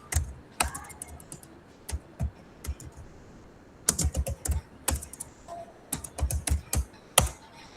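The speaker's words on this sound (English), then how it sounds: "I am typing" Someone types on a computer keyboard in irregular bursts of crisp clicks and key taps, sparse at first and then denser, close by and without speech.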